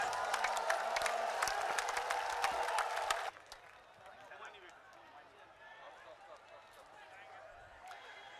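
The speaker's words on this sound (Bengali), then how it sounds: "আপনারা জোরে হাততালি দিন।" A crowd at an outdoor protest rally of field workers claps and cheers in a broad wash of applause for about three seconds, then it cuts off and a faint voice talks over the open-air murmur.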